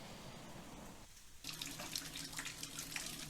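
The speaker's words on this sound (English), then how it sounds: "Videos sent to Fox 5 shows water pouring out of pipes" Water pours out of leaking pipes in a dorm building, a steady rushing splash that swells louder partway through, with no talk over it.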